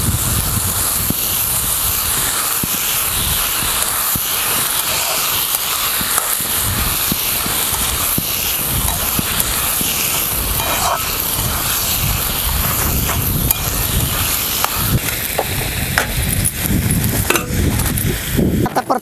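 Pavta beans sauté in oil in a pan over a wood-fired village stove outdoors, giving a continuous, even sizzling hiss with faint scraping and clinking of a utensil, and no talk.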